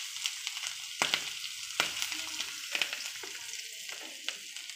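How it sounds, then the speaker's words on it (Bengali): Whole cumin and green chillies fry in oil left from frying katla fish, giving a soft steady sizzle punctuated by sharp scraping stirs of a spatula against the pan, close and fairly quiet. "এই মাছের তেলেই বন্ধুরা গোটা জিরে দিয়ে দিলাম, একটু দুটো কাঁচা লঙ্কা দিয়ে দিলাম।"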